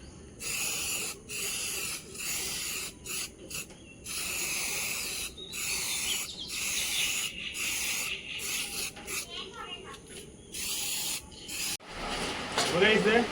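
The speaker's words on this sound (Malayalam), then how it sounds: "ക്ലിയർ അടിച്ചു കൊടുക്കുന്നുണ്ട് നമ്മൾ നൈസായിട്ട്" Clear coat sprayed in repeated bursts from a spray can onto a homemade toy gun, each close, breathy hiss lasting about a second with short gaps between, ending in a louder rustling handling noise.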